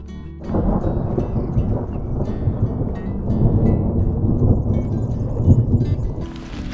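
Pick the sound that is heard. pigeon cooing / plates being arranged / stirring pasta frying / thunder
thunder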